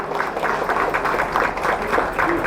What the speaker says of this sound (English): big round of applause for me.